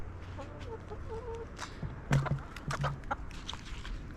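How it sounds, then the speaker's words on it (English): A flock of backyard chickens clucks and squawks over thrown coconut scraps, a busy run of close, excited clucks that grows louder midway. "It's going to the chickens."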